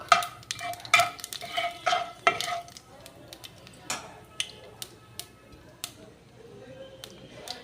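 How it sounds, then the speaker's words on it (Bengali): Nigella seeds (kalo jeere) tempering in hot oil in a pan, a soft crackle with scattered sharp pops and utensil clinks that thin out over time. "এই তেলের ওপরেই আমি একটু কালো জিরে ফোড়ন দিলাম।"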